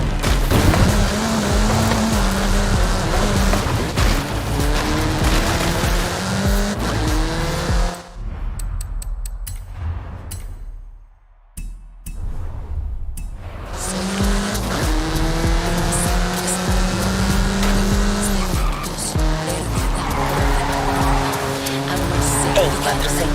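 A car in Forza Horizon 5 revs hard and speeds along with a loud rising engine whine through repeated gear climbs and squealing tires, briefly dropping away mid-run before roaring back to full speed.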